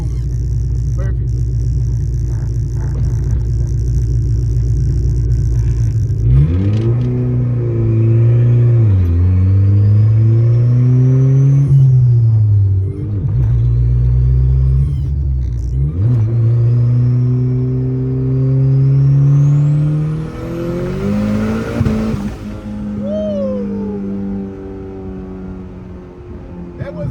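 Honda Civic EF with a boosted engine on a fresh base tune, loud rough idle before it revs up several times in rising and falling sweeps, close to the microphone.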